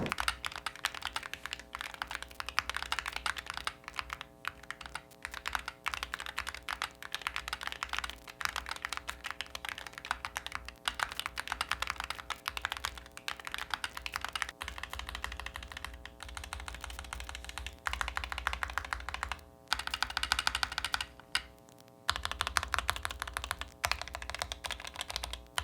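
Steady typing on an Atlantis Pro keyboard fitted with silicone keycaps, a dense run of soft, close keystrokes with brief pauses and no talking.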